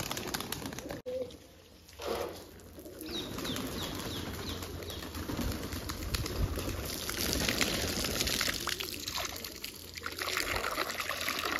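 Pigeons flutter and flap their wings while water is poured for them to bathe, with wingbeats and splashing trickle running steadily throughout at close range.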